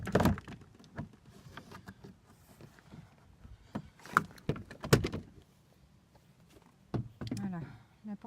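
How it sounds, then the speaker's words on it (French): Plastic clips popping and a door trim panel being pulled upward off a Citroën Saxo door, giving several sharp snaps and knocks with scraping between them and a brief voice in the background. "Voilà, la porte elle est enlevée."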